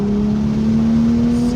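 A 2023 Toyota Supra with a six-speed manual runs hot laps on a race track, its engine holding a loud, steady drone close to the microphone with no talk over it.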